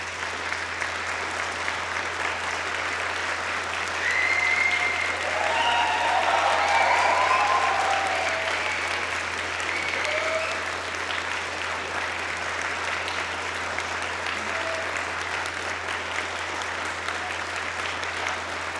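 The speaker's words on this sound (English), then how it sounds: "join me in a round of applause for our graduates" Audience at a University of Manchester graduation ceremony gives the graduates a long, steady round of applause, a dense even patter of many hands in a large hall, swelling slightly early on, with faint voices underneath.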